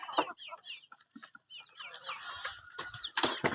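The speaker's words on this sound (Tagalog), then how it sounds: "tas ito yung mga manok na makukulit" Chickens cluck in a provincial backyard, with a flurry of close, busy clucks and squawks from several birds, growing louder and more agitated toward the end.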